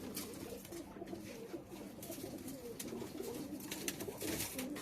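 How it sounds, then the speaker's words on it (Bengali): Pakistani high flyer pigeons, all males, coo repeatedly in a loft in Kuwait, a layered chorus of soft rolling calls at moderate distance with no talk. "এখানে সব নর কবুতর। এই কবুতরগুলো সব উড়ার জন্য রেডি হয়ে আছে।"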